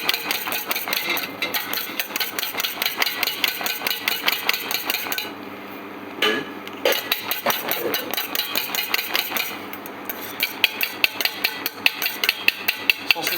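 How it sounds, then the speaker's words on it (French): Génoise sponge batter whisked hard and fast in a bowl, a close, rapid, rhythmic clatter of strokes that runs for several seconds, pauses briefly twice, then resumes. "Je continue à fouetter mon mélange."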